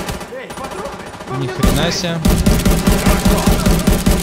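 Rapid automatic gunfire in Tom Clancy's The Division 2 during a fight, with loud repeated bursts that grow denser in the second half while someone shouts over the shooting.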